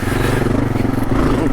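A Kawasaki KLR650 motorcycle engine drones steadily and loudly while being ridden, a close, continuous low rumble with rattling clatter from the bike throughout.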